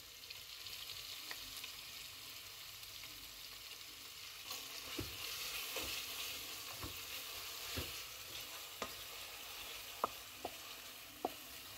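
Chilies frying in a pan for haleem, a quiet steady sizzle with occasional sharp crackles and spoon taps, close by and alone.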